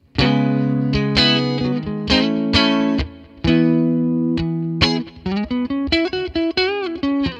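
Electric guitar played through AmpliTube 5 amp models, comparing a 53 and a 59 amp: loud, distorted chords and sustained notes ring in several phrases, then shift to a brighter, choppier run of notes near the end, with no talking.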